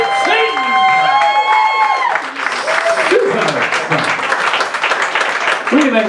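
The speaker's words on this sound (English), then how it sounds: "ladies and gentlemen, big round of applause" Pub audience at a Pub Idol singing contest heat breaks into loud, sustained applause and cheering that fills the room, with a host's voice talking over the crowd.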